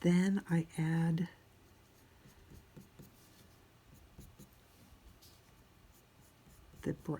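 Prismacolor colored pencils scratch softly on paper while a hair and hat drawing is colored in, faint steady rubbing strokes after a woman's brief speech at the start.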